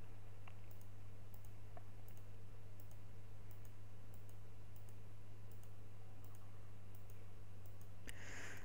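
Sharp computer mouse clicks recur at a steady rhythm on a quiet desk over a constant low electrical hum, faint and close, with no talking.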